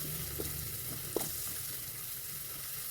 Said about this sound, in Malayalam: നന്നായിട്ടൊന്ന് വാടണം. ബ്രൗൺ കളറാവണം ഉള്ളി.